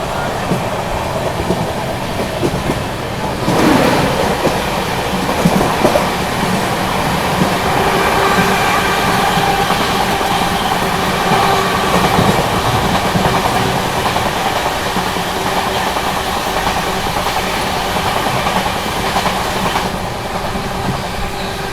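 An Indian passenger train, the New Delhi–Patna special, runs on rails near Mirzapur toward Pandit Deen Dayal Upadhyaya Junction, heard from onboard as a loud, continuous rumble with rhythmic clickety-clack of wheels over rail joints.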